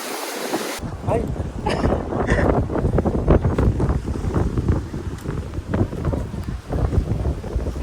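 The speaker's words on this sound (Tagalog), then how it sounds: "Ang hangin niya, guys." Strong wind buffets the microphone at a beach in Padre Burgos, Southern Leyte, a constant loud roar with surf mixed in, while a person talks intermittently over it.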